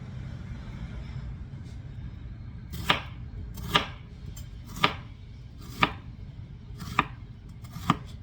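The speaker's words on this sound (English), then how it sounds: "You don't have to chop this fine at all." A knife chops through a peeled onion on a board in six sharp, evenly spaced strikes, each a crisp close knock, with no talk over them.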